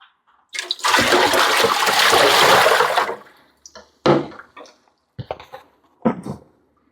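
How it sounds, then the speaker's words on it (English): Water pours out of a Waterdrop WD-A2 reverse osmosis unit's container in a loud rushing gush for a few seconds, then stops, followed by several sharp knocks and clatters of the container. "Emptied that water, as you heard it."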